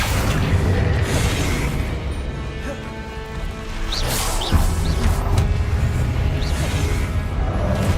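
The Confringo explosive spell in Hogwarts Legacy: a loud, booming blast with crackling bursts and whooshes amid ongoing combat noise, with a voice shouting spell names.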